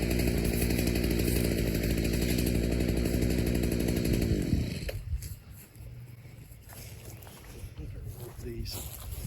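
A garden shredder roars loudly as a big lump of wood is fed in, its heavy grinding engine drone dropping off about halfway through to quieter clattering and background noise.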